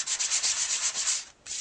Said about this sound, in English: Can you kind of see how that's sanding right off of there?